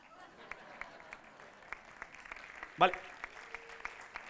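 Faint, sparse applause rises from a gala audience, a few scattered claps with one brief louder burst midway, under someone speaking.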